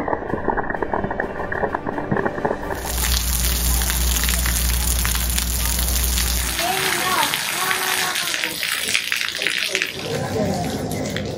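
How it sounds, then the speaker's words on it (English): Heavy rain pouring down around an open forest tram at Icy Strait Point in Hoonah, Alaska, a dense steady hiss of downpour that swells partway through, with people talking over it. "It is pouring."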